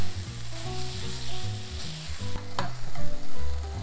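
Marinated meat stir-frying over low heat in a pan for japchae, a close, loud sizzle with stirring scrapes and clacks of the utensil against the pan, no speech.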